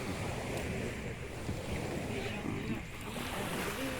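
Sea waves wash steadily onto a beach in a broad, continuous rush with wind buffeting the microphone, heard close and fairly loud with no speech over it.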